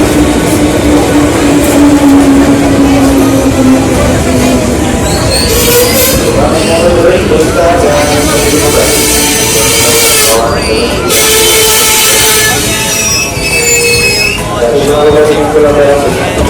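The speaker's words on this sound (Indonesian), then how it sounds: "Wah, keretanya lewat." A train rumbles past steadily with metallic rail noise and a brief wheel squeal, while people talk over it throughout.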